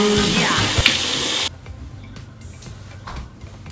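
Water runs loudly from a bathroom tap during a face wash, a steady close rush that stops abruptly partway through, leaving faint ticking and quiet room sounds.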